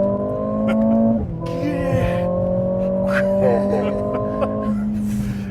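A turbocharged Mercedes-AMG CLA45 accelerates hard from inside the cabin, its engine note climbing steadily through two gear changes, with someone talking over it.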